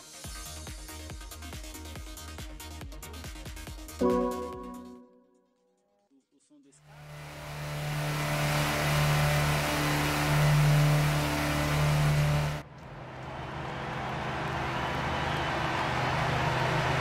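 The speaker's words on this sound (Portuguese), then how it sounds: "o som do escape?" A race car in Gran Turismo 6's amateur championship revs hard, its engine and exhaust building into a loud, sustained droning roar that briefly cuts out, after a stretch of busy background sound and a short near-silence.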